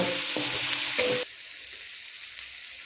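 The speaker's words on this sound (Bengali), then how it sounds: "আমি মশলার সাথে আলুটাকে সুন্দর করে কষিয়ে নেব" Potatoes being fried and stirred with spices in a pan, a loud hissing sizzle with scraping for about a second, then dropping to a quieter steady frying hiss.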